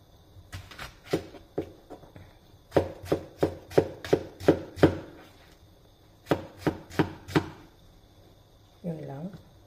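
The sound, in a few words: chopping onion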